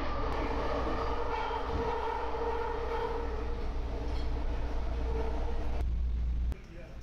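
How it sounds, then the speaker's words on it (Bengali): AirTrain people-mover running from JFK Airport to Jamaica Station, a steady loud rumble of the moving railcar with rolling wheel noise throughout, dropping off sharply near the end as the ride quiets. "এয়ার ট্রেন ব্যবহার করতে আজকে গিয়েছিলাম জেএফকে এয়ারপোর্টে, সেখান থেকে ভ্রমণ করেছিলাম জ্যামাইকা স্টেশনে"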